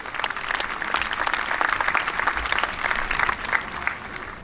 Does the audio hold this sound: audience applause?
yes